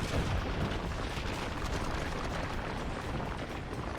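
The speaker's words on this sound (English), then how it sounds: "the sound of an explosion thunders out" A loud, sustained explosion rumbles from the Danganronpa Another Episode: Ultra Despair Girls game on PC, a dense, roaring boom that stays heavy for about four seconds with no talk over it.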